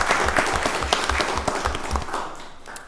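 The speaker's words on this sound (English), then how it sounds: "let's give Pastor Hall and Crossroads another round of applause." An audience at a Rockdale County Board of Commissioners meeting applauds in a steady wash of clapping that tapers slightly toward the end.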